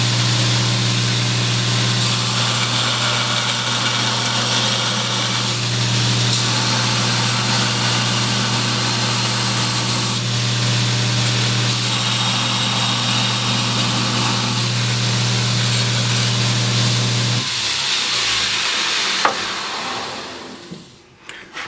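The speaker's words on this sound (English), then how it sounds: "Let's take a look at the grinder and show you how it grinds." A Wilmont LB1000 knife grinder runs with a steady loud motor hum for about seventeen seconds, then winds down and its sound fades near the end.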